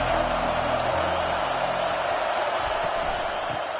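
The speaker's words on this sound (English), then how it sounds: "They challenge this crowd to bring the energy, and I'd say they're doing that." Stadium crowd at a football game, a dense, loud, continuous roar of cheering filling the whole stretch with no single voice standing out.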